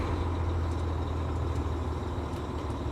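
An old Volvo VNL semi truck nearing a million miles rolls along with a loud steady engine rumble, with faint knocks and rattles from the body showing through the drone.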